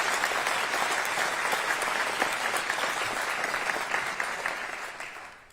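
Audience at the Seattle State of the City address breaks into loud, sustained applause, a dense continuous clapping that holds steady and then tapers off at the end.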